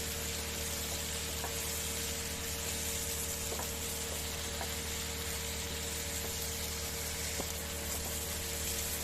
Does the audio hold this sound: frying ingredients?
yes